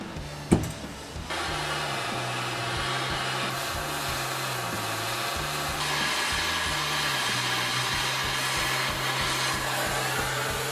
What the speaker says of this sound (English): So I'm going to attempt to heat up this screwdriver blank that I've made with MAP gas